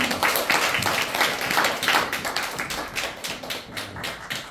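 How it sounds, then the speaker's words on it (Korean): An audience claps for a teacher at a Korean event, a steady dense patter of many hands held at an even level for several seconds, with no voices over it. "수고해주신 우리 한병전 선생님께 다시 한번 박수로 부탁드리겠습니다."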